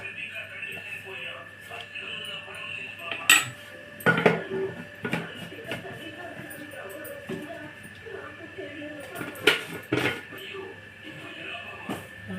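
Tamarind fish curry with small fish is stirred in a pot, the spoon clattering and scraping against the metal in irregular knocks, and a few sharper clangs sound close by while someone talks between the strokes.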